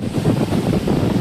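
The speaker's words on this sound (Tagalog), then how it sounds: "para mas lalo nyo makita kung gaano katindi yung alon today" Strong waves at a Boracay beach roar in a continuous low wash, with heavy wind buffeting the microphone.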